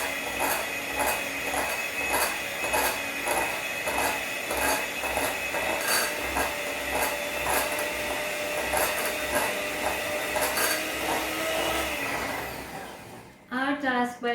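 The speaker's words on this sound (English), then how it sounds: "then we start whisking." Eggless banana bread batter with sugar whisked in a bowl, a quick regular beat of close scraping strokes that runs evenly before breaking off into a brief clatter at the end.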